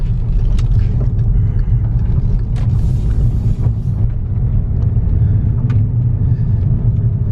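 A VW TDI car accelerates, with a possible turbo fault. A steady, loud low rumble of engine and road noise runs from inside the cabin, with faint clicks on top.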